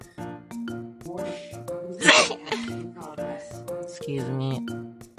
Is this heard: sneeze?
yes